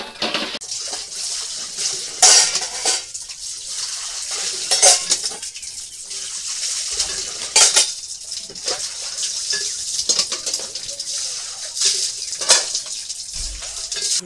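Dishes being rinsed and washed in a home kitchen: running water splashes while plates, pots and utensils clatter in irregular bursts, close and fairly loud, with no talk.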